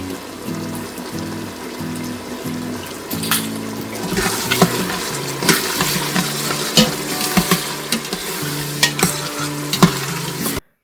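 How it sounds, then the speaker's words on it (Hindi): Tender meat masala fries in oil in a pot, with a steady sizzle broken by repeated scraping stirs of a spoon that grow busier as it cooks, close and clear with no talking. "अब इसकी मैं भुनाई करूंगी कि इसका ऑयल सेपरेट हो जाए।"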